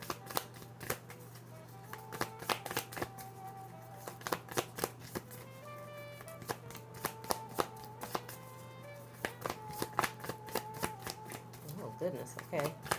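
Tarot cards shuffled by hand, close-up, with repeated crisp riffling bursts and sharp card taps in an irregular rhythm, while a person talks softly over it.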